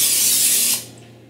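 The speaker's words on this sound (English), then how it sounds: "I'm still going to spray it down with a little bit of cooking spray." A short, loud hiss of cooking spray coating a non-stick frying pan that already holds a little water, lasting under a second before trailing off into quieter room noise.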